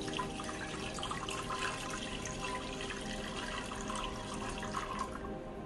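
Water pours steadily into a 2-cup measuring cup, a continuous close splashing stream that runs the whole time with no talk over it.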